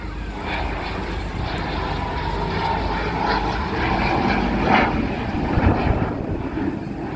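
A BAC Strikemaster jet flies an airshow display at Eastbourne, a continuous loud engine roar heard from a distance with steady wind rumble, swelling slightly midway and lingering to the end.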